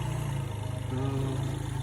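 A vintage Suzuki GN125 motorcycle engine idles after being started following 18 years of disuse, with a steady, close, low rhythmic thrum throughout.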